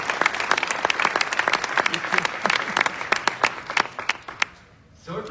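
A large crowd applauds at the WorldSkills Competition closing ceremony in Messe Luzern, Lucerne, Switzerland, with loud, sustained, dense clapping that thins out and fades near the end as a voice returns.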